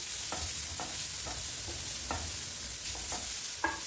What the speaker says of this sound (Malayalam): ഇതിലേക്ക് ഒരു രണ്ട് വലിയ സ്പൂൺ തേങ്ങ കൂടെ നമുക്ക് ആഡ് ചെയ്ത് കൊടുക്കാം അതുകൂടെ ഇതിലൂടെ നന്നായിട്ട് യോജിപ്പിച്ച് എടുക്കാം